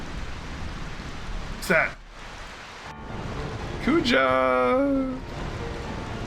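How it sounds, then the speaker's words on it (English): Steady rain hisses across a Final Fantasy IX game scene, a broad wash that runs under short bursts of voiced dialogue and a few sharp game effects. "I find this rain quite pleasant. It feels as though the raindrops are blessing our victory."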